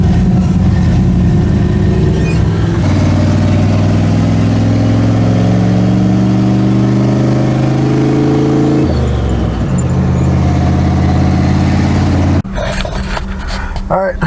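A drag race car numbered 74 revs hard during a shakedown, its loud engine rising in steady harmonic sweeps, dropping briefly, then climbing again before cutting off abruptly near the end.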